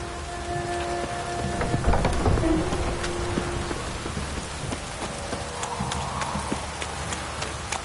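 Heavy rain pours steadily with a low rumble of thunder in The Witcher 3 video game, accompanied by faint tonal hums and scattered clicks.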